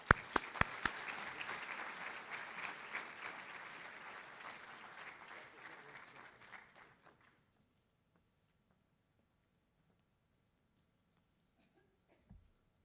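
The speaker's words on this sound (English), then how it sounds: "Please join me in a well-deserved round of applause for our Chancellor" Audience applause at a university white coat ceremony welcoming the chancellor: dense, loud clapping with a few sharp near claps, fading out around seven seconds into near silence, with a faint thump at the end.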